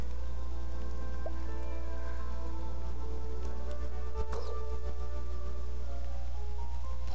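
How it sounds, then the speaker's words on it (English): Rain in the Octopath Traveler II video game, a steady, even hiss of falling rain with a low constant hum beneath and a brief crackle partway through. "this rain just won't let up"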